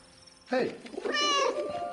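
A cat belonging to a German character in a video game meows loudly and close, one long wavering cry followed by a shorter throaty mew, with someone speaking briefly alongside it.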